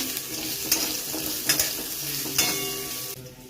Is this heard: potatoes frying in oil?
yes